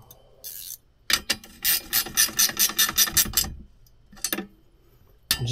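Ratchet straps being cinched tight to hold seats on a 1980 Peterbilt 359 EXHD with a 3408 Caterpillar engine: bursts of quick, evenly spaced mechanical clicks, with a long rapid run of ratcheting in the middle, close and fairly loud.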